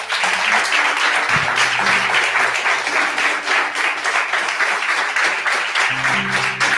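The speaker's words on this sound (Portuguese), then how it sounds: "Aplaudam Deus por ela." A church congregation breaks into loud, sustained applause throughout, dense and continuous clapping from a large crowd filling the hall, with faint tones beneath.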